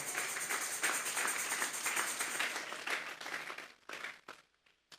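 A church congregation claps during a Spanish-language service, a dense, loud burst of applause that holds steady and then thins into scattered final claps before fading out.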